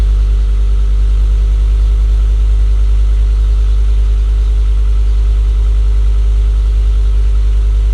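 A VW Golf Mk4 with the VR5 engine, fitted with a Sportex exhaust, holding a steady, loud, deep idle that stays even throughout, without clear blips or rises in revs and with no talking.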